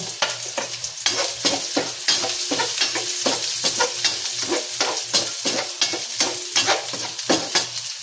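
Garlic sautéing in a pan for chicken tinola, with ginger already in, giving a loud, steady sizzle broken by a rapid rhythm of utensil scrapes and stirring knocks, close up and with no talking.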